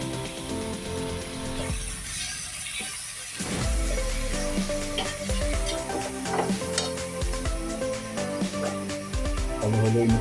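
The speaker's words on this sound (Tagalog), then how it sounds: "At syempre, hahalu-haluin din natin." Potatoes, carrots and saba bananas, already fried, sizzle steadily in a pan while being stirred, with repeated scraping and clinking of a utensil against the metal throughout.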